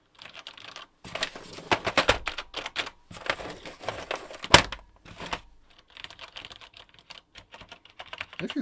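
Typing on a mechanical keyboard fitted with POM keycaps, a close flurry of crisp clacking keystrokes in uneven bursts with brief pauses and no voices.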